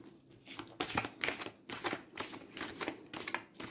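A deck of tarot cards being shuffled close up, with repeated quick riffling bursts, soft and papery, no voices.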